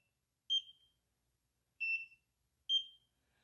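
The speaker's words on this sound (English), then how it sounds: "Same thing, beep means it's done." A home laser skin treatment device gives three short high electronic beeps, spaced about a second apart and clear against silence.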